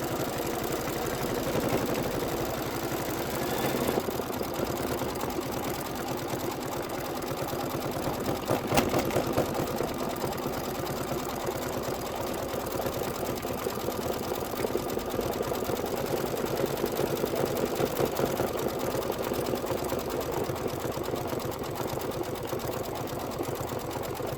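Embroidery sewing machine stitching a pincushion with light gray thread: a steady, fast mechanical whirring hum with rapid needle chatter, continuous and close, running alone.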